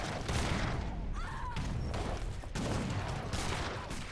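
Dense, continuous volleys of artillery fire and booms from a pro-level 2v2 strategy game battle, a sustained rumbling barrage with brief dips, heard without talking.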